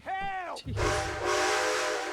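Train whistle from a roleplay video game: a short, loud whistle blast with a sagging pitch opens, then gives way to a steady, broad rumble of the train starting to move.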